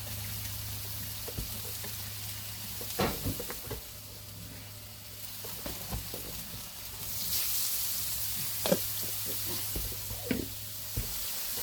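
Teriyaki sauce and shrimp sizzle steadily on a hibachi grill, a continuous frying hiss under scattered clinks and scraping as the food is stirred, the sizzle swelling louder partway through; no talk.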